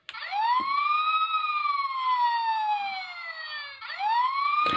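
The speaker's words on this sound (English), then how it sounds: "I think this is the long siren again." A long electronic wail from a Transformers toy fire truck sweeps up and slowly falls across several seconds, then restarts with a second rising sweep, loud and close.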